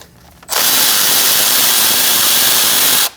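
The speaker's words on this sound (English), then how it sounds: "Using an E10, we're going to remove this bolt." A power tool with an E10 socket spins out a bolt on the intake manifold of a 2008-2014 Mercedes-Benz C300 3.0L V6, a loud, steady whir lasting about two and a half seconds that starts and stops abruptly, with no talking.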